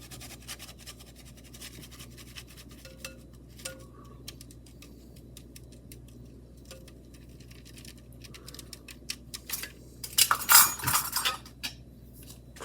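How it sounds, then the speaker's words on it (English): Flour and baking powder sifted into a mixing bowl for peanut butter cookie dough make faint scratchy, ticking sieve sounds, building to louder metallic rattling and clinking near the end. "Now we just sift this in the bowl."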